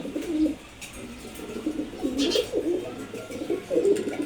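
Pigeons in a loft coo in soft, repeated throaty phrases, several birds close by with a faint rustle in the background.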